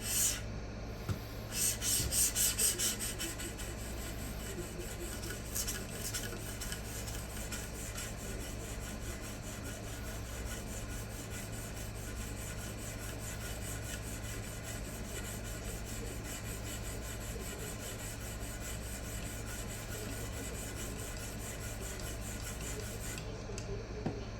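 A tanto knife blade is drawn across a fine stone on a fixed-angle sharpening system, making a steady, soft, rhythmic scraping rasp that goes on alone and close up for the whole stretch.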